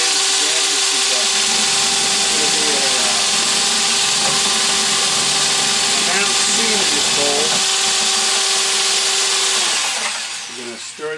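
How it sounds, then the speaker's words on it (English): A power mixer drones steadily while stirring pottery glaze in a studio, a loud continuous whir with a wobbling pitch that runs for about ten seconds before winding down. "We're going to stir that glaze real good."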